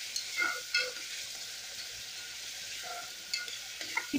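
Tomatoes with a little salt cooking in a hot pan for tomato charu give a steady soft sizzle, with a few brief scrapes and clinks of a spoon against the pan.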